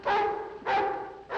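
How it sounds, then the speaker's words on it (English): Several dogs barking next door in a 1950s sitcom scene, three loud bursts of barking spaced about half a second apart, close and clear with no talking. "They've got barking dogs."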